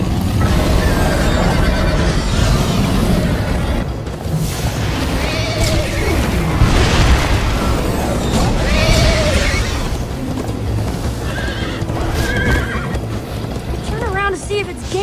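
Horse neighing and galloping hooves in the Minecraft Story Mode video game, loud and continuous over a busy game soundtrack, with repeated whinnies rising above the mix and voices heard now and then.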